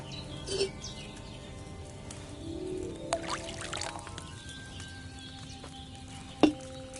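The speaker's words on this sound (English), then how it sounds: "So, what did you pour in there? Wine, of course." Wine is poured into a cauldron in the video game Kingdom Come Deliverance II, a steady liquid pour running under ambient game sounds with faint bird chirps and a sharp clunk near the end.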